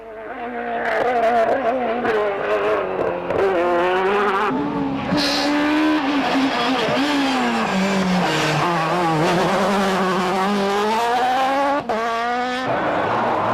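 A four-wheel-drive rally car races flat out on a special stage at the 1999 Rallye Lyon Charbonnières, its engine loud and close, revving and changing pitch through gear shifts, with tyre squeal and brief skids.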